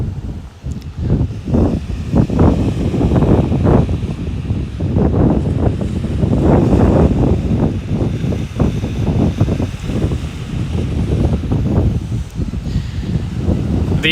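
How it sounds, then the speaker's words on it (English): Waves crash on the shore below at Etobicoke at sunrise, a low, rolling surge rising and falling under heavy wind buffeting the microphone. "hopefully you can hear the waves crashing down below"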